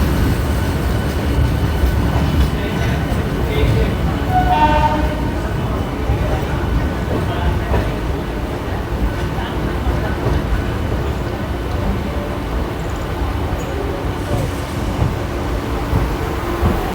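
An AC local train runs into Krishnanagar with a steady rolling rumble heard from on board, while a voice speaks over the noise throughout.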